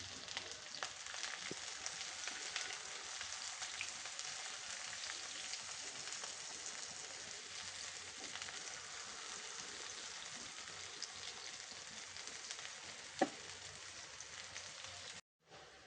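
Sliced onion rings frying in mustard oil in a pan for a Bangladeshi beef and cabbage curry, a steady close hiss and crackle that runs unbroken, alone with no voices.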